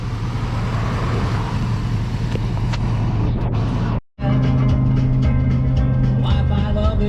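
A car driving on the road after a roadside tire plug, with a loud, steady engine and road rumble that cuts out briefly midway and then returns with a droning tonal hum.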